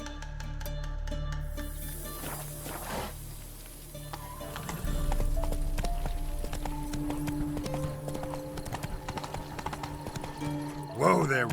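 Clip-clopping hoofbeats of a horse in The Witcher 3 Wild Hunt run quickly and rhythmically under game music and ambience, with a voice briefly and a short whinny-like sound near the end.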